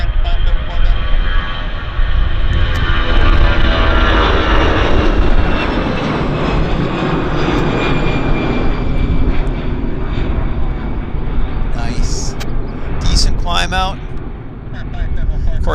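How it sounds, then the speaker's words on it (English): A Liberal Party of Canada campaign airliner departs Vancouver Airport bound for Edmonton, its jet engines giving a loud, steady roar throughout, with a few brief higher whines near the end. "The Liberal Party of Canada, presumably with Prime Minister Mark Carney on board on a campaign flight, heading out of Vancouver over to Edmonton."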